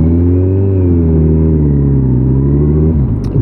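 A car engine pulling away in traffic, heard up close as a loud, steady mid-range drone that shifts pitch as it accelerates, then drops off sharply near the end, with a brief clatter after.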